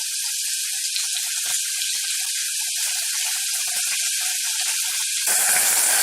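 Hedgehog mushrooms sizzle in a hot pan with oil and garlic, giving off a steady, bright hiss of frying and escaping water that holds evenly and swells slightly louder at the end.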